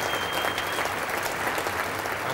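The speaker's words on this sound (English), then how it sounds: "I'm sure the entire ground clapping at that announcement by Alan Curtis" A Lord's cricket ground crowd at the England v Australia Centenary Test applauds commentator John Arlott: continuous, even clapping from the whole ground, heard from a distance with no talk.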